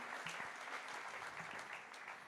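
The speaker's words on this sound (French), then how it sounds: "vous pouvez l'applaudir bien sûr." Steady applause from a conference audience at a round-table session, a dense patter of many hands clapping at even loudness for a couple of seconds.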